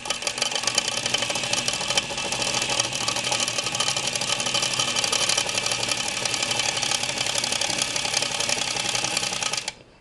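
A Singer 237 sewing machine runs steadily for about ten seconds, its motor giving off a continuous mechanical whir and rattle that holds at an even loudness before cutting off abruptly near the end.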